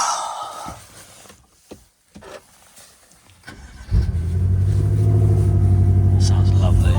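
A 2015 BMW M5 F10 V8 cranks and fires into a deep, loud idle rumble that holds steady, with quiet talk and handling noises just before it starts.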